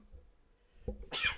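One short, sharp sneeze bursts out close by near the end, preceded by a quiet breathy intake in an otherwise hushed room.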